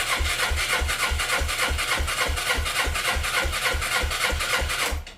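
A Suzuki GS500 motorcycle engine cranks with the throttle held wide open while a compression tester is fitted, a loud, regular rhythm of starter-driven compression pulses that stops sharply near the end.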